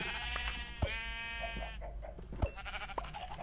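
A sheep bleats in a Minecraft-style modded video game: a couple of wavering, nasal bleats stand out over a dense, busy backdrop of game sounds.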